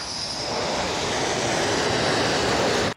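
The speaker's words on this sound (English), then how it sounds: "The jets are coming back to Kuznetsov from the mission." Military fighter jets return to the Russian aircraft carrier Admiral Kuznetsov. A loud, steady roar of jet engines fills the whole clip before it cuts off abruptly at the end.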